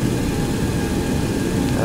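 Aircraft engines power up for takeoff on runway 15, a loud, steady, dense roar that fills the whole moment without letting up.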